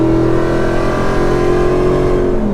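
A Jeep Gladiator swapped with a 750+ hp Hellcat engine accelerates in a continuous loud, even engine drone that holds steady and sits close with no break.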